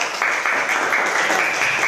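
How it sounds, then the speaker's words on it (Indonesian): Steady, dense applause fills the whole stretch as a classroom of students claps for a presenting group, continuous and fairly loud with no pauses. "Tepuk tangan untuk kelompok 3"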